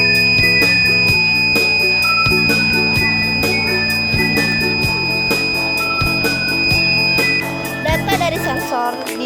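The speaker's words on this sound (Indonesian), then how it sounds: "Buzzer yang menghasilkan bunyi pendeteksi mulai dari kadar polusi" The buzzer of a homemade air pollution detector sounds as a loud, continuous, shrill tone held steadily for about nine seconds over rhythmic, pulsing background sound.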